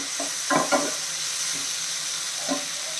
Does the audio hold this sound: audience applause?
no